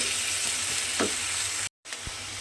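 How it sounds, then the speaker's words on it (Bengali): Onion, ginger, garlic and tomato paste masala sautés in a pan with a steady, close hiss of frying, broken by a few soft stirring scrapes and a brief cut to silence. "পেঁয়াজ, আদা, রসুন, টমেটো সব কিছু দিয়ে ভালোভাবে এখানটা একটু কষিয়ে নিতে হবে"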